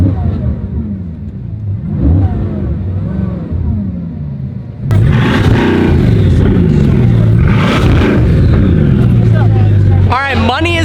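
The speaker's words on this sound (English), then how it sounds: "Listen to the 812 revving it up." A Ferrari 812 V12 revs with a loud rising and falling engine roar, jumping to a harsher, fuller blast midway as the throttle is pushed, and people talk over it.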